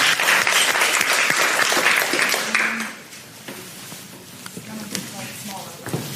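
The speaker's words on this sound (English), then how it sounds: "Let's give Tess a big round of applause." An audience bursts into loud applause that holds for about three seconds, then quickly drops away to a few scattered claps as voices carry on.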